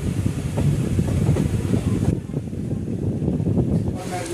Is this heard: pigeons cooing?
no